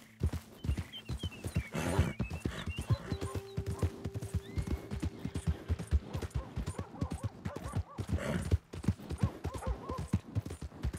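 Horse hooves clip-clopping steadily in Red Dead Redemption 2, a near, rhythmic walking gait on a town street in Valentine, with brief whinnies and faint background ambience.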